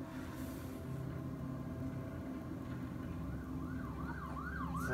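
An ambulance siren wails faintly in the distance in the video game The Last of Us Part 1, rising and falling under a low steady rumble of road and engine noise.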